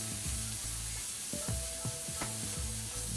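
French toast sticks sizzle in butter in a cast iron skillet, a steady close hiss broken by a series of sharp scrapes and clinks as the sticks are turned. No one speaks.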